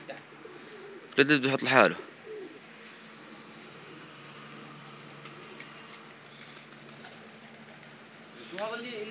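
Pigeons at a loft coo in a brief loud burst near the start and again softly at the end, with a voice talking over steady background noise.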